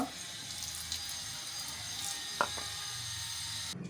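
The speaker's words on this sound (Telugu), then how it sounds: "ఈ పప్పును అయితే మనం ఒక టూ త్రీ టైమ్స్ అయితే కడుక్కోవాలి ఇలా" Moong dal gets washed in water with a steady, soft sloshing and a running-water hiss. One brief clink of the vessel stands out partway through.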